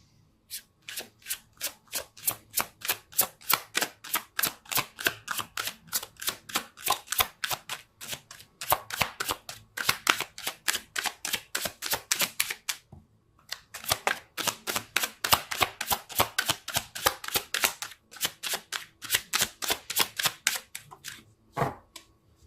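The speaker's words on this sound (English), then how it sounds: "Let's see if I can shuffle." Tarot cards are riffle-shuffled again and again in quick, crisp bursts, with brief pauses between rounds, close up and steady.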